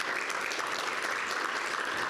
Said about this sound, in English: Round of applause for UCI.